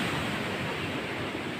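Strong, heavy ocean waves surge in a steady, loud broadband roar that fills the whole stretch without breaks, close by and with no voices over it.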